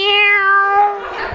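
A single drawn-out cat meow, clear and close, with a bright tonal voice that slides slightly downward over about a second. A human voice imitating a cat cannot be ruled out.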